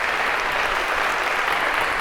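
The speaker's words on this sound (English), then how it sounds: "a big round of applause for our volunteers." A lecture-hall audience applauding volunteers in a computer science class, steady dense applause filling the whole short stretch with no talk over it.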